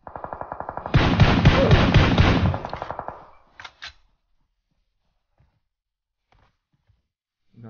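A loud, rapid burst of automatic gunfire from a video game rattles for about two seconds, followed by a couple of sharp single shots and then near silence.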